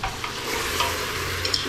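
Ingredients for Tlemcen harira sizzle steadily in a pot while being stirred, a close, even frying hiss with light scraping clicks and no talk.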